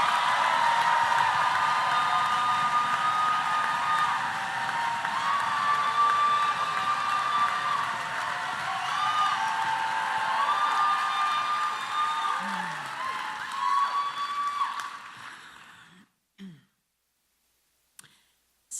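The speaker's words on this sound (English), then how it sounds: "Keep applauding them till they come up to the mic." A storytelling slam audience applauds and cheers steadily for a performer being called up to the mic, a dense sustained wash of clapping with whoops that fades out near the end, leaving a few brief knocks.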